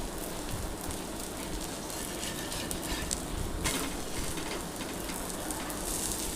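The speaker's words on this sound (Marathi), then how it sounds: "दोन्ही साईडने छान खरपूस भाजून घ्यायचा आहे." An uttapam roasting on a hot pan, a steady, fairly loud sizzle that crackles continuously without pause, with no one talking.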